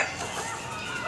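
Chickens cluck steadily inside a poultry house on a farm, a busy, close chorus of hens filling the space with no voices over it.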